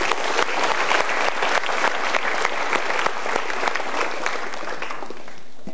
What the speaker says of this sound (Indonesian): so kita berikan tepuk tangan untuk beliau.